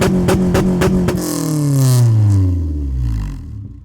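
Honda Civic Type R EP3 fitted with a Spoon N1 exhaust, a few sharp close blips followed by a long rising rev that swells loud and then falls away, with no talking.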